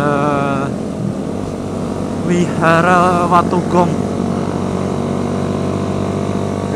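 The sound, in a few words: motorcycle engine with loud racing exhaust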